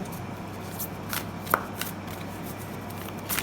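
Oracle cards are shuffled by hand for a reading: soft, papery riffles and taps come in short, scattered bursts, one slightly sharper than the rest, over a quiet room.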